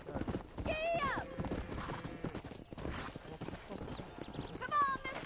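A horse in the video game Red Dead Redemption gallops with rhythmic hoof clip-clops and a couple of whinnies, mixed with voices and game sound, moderately near.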